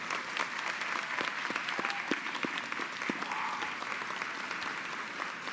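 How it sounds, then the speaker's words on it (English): An audience at a nursing college convocation gives graduates a sustained round of applause, dense steady clapping from a large crowd filling the hall for several seconds. "as we give you one more round of applause to thank you for sharing your education with us at the Lowenberg College of Nursing"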